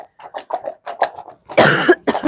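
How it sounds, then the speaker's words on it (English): A string of short, soft coughs or throat sounds, then a burst of louder, harsher coughing near the end, close and alone. "while I have a bit of a cough"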